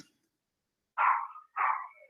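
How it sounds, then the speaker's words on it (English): Two short yelping barks from a small dog, each about half a second, spaced apart and fairly loud against silence. "he sounds like such a cute puppy"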